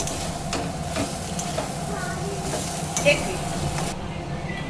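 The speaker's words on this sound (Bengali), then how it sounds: "এবারে আমি লঙ্কা কুচিগুলো দিয়ে দেব, খুব ভালো করে পুরো করে একদম নাড়াচাড়া করে নেব" A Bengali poppy-seed filling for posto puri is stirred with chopped green chillies in a pan, producing a continuous close sizzle with soft scraping strokes and faint voices in the background.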